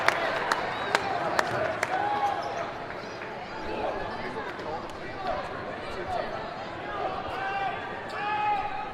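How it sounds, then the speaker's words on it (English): Crowd noise fills a high school basketball regional final in a gym between St. Edward and Elyria. A ball bounces sharply several times early on, under continuous murmur, shouts and a commentator's voice. "Good crowd on hand here at the Jar."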